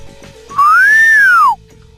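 A person whistles one loud, clear note that rises and then falls for about a second, with near silence before and after.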